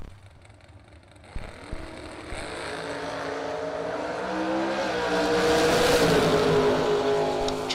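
Drag race cars thunder past on the strip, a loud engine roar swelling and rising in pitch as they accelerate by, alone without voices.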